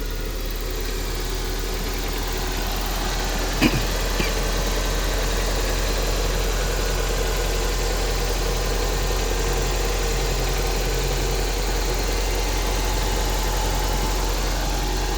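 A 1997 Toyota Corona Exsior engine idles steadily and evenly for a long stretch, with a brief sharp click partway through and no talking.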